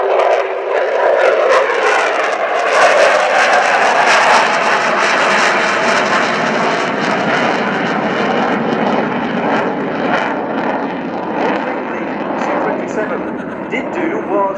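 Roaring jet engine of a Sukhoi Su-27P fighter during an air display, a loud sustained whoosh that swells and slowly fades as the aircraft passes, with someone talking over it.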